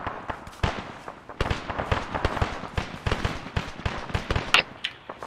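Rapid bursts of gunfire in the military shooter ArmA 3, with many sharp reports crackling close together, some nearer and louder, in a dense steady barrage near a compound.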